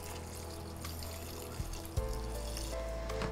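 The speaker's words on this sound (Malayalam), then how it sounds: "1/2 കപ്പ് വെള്ളം കൂടി ചേർത്തിട്ട് ഇതൊന്ന് ബീറ്റ് ചെയ്യാം." Water pours from a cup into paneer bonda batter in a kitchen, a quiet steady trickle and splash with a couple of soft bumps against the bowl.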